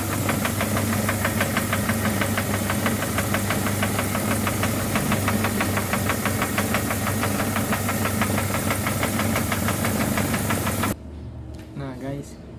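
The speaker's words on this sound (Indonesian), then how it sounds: "Pompa pun menyala." A water pump driven by an electric motor runs with a loud, steady mechanical hum and rapid rhythmic knocking throughout, then cuts off abruptly near the end, leaving someone speaking.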